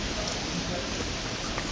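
Rain falling on a city street in east Saarbrücken in late December near the city hall, a steady dense hiss of drops on pavement, close and continuous, with no voices.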